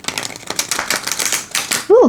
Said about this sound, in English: Okay, shuffle test.